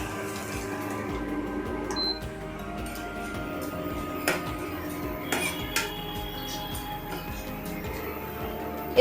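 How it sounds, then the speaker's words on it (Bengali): A utensil stirs garlic frying in oil in a pan for a Bengali-style Bombay duck curry, giving steady clinks and scrapes against the metal over a constant low kitchen hiss. "রসুনটাকে একটু নাড়তে হবে।"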